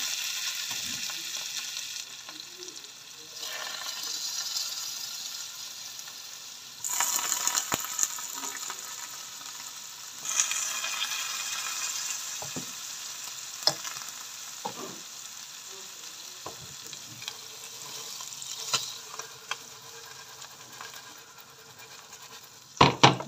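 Bread toasting in oil in a pan on both sides, a steady close sizzle and fry with scattered clicks and light scraping, moderately quiet.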